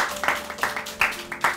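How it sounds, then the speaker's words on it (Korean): Audience applause greets a participant at a school library book festival in Chungju, a steady wash of clapping of moderate loudness with a few louder bursts, lasting under two seconds. "큰 박수 부탁드립니다."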